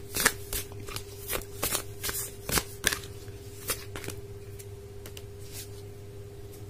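Oracle cards get shuffled by hand in a quiet room, giving a series of close, crisp riffling and slapping bursts in an irregular rhythm that thin out toward the end, with a faint steady hum behind.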